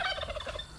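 A turkey gobbling in a rapid warbling burst close by, loud and alone, with no talking.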